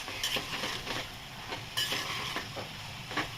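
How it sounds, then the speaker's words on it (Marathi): Moth beans being stir-fried with onion and tomato over a high gas flame: a soft continuous sizzle broken by repeated scraping strokes of a spoon against the pan, fairly quiet and regular. "गॅस फास्ट करून अशी छान परतून घ्यायची आहे, खूप परतायची।"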